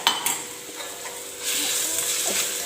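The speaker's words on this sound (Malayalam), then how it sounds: "സവോള പെട്ടെന്ന് വഴന്ന് വരാനായിട്ട് നമുക്ക് ഉപ്പും കൂടെ ചേർക്കാം" Sliced onions sautéing with salt in a pan for tapioca biryani, a soft steady sizzle broken by a few utensil clinks and a louder stirring swell midway.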